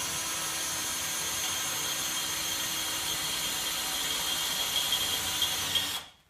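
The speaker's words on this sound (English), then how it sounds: "drilling thick metal with the big bit" A drill boring through thick metal with a large sharpened bit, a steady loud whine held for about six seconds before the motor cuts off abruptly and the sound falls away to silence.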